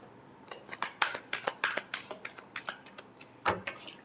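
Tarot cards being shuffled by hand, a run of crisp riffling flicks and soft slaps in quick irregular rhythm, close and fairly quiet, with one stronger burst near the end.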